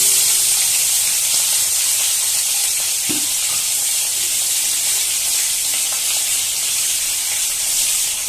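Magur catfish frying in a little oil over low heat: a loud, continuous sizzling hiss close by, with one brief click partway through.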